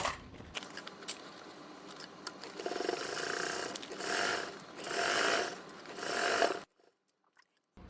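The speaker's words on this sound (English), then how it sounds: "we're going to turn it right side out, flatten the seam, and top stitch" A sewing machine top stitches a flattened duffle bag seam, running in a steady whir that swells in a few surges and then stops abruptly near the end.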